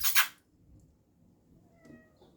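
A cat outside in a back garden gives a faint, distant meow after a brief scratchy noise up close, with light background hiss.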